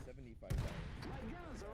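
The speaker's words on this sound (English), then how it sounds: "Good shots from the mortar." Mortar fire in a World War strategy video game tournament, a single heavy thump with a brief blast, heard under continuous excited commentary from a caster.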